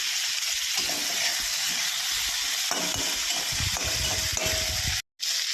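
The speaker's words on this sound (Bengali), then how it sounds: "ফুলকপি ভাজতে একটু সময় লাগে।" Cauliflower sizzles in hot oil in a pan with salt and turmeric, a steady close crackling hiss with occasional stirring scrapes, cutting off briefly near the end.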